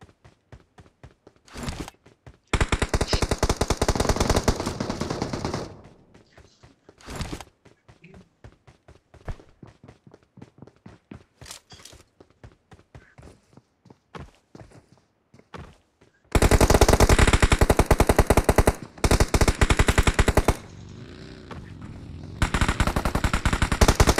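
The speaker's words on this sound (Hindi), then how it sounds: "मैं बहुत समझ कर फायरिंग कर रहा हूँ इस पे" Automatic gunfire in the mobile battle royale game PUBG Mobile comes in loud sustained bursts separated by quieter gaps with scattered single shots and footsteps, one long heavy burst late on.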